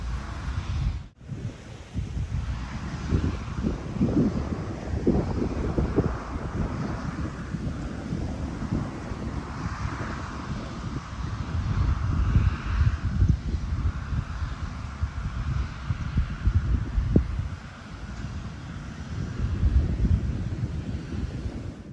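Wind buffets the microphone in rough, gusting rumbles for a long stretch outdoors on a golf course, with no one speaking.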